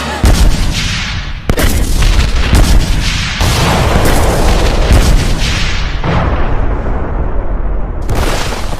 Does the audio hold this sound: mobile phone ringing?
no